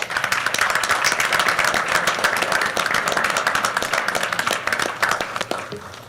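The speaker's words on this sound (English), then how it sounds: "if you'll please join me in giving the board a round of applause" Audience applause at a school district board meeting, many hands clapping in a steady dense round that holds at even loudness and begins to thin toward the end.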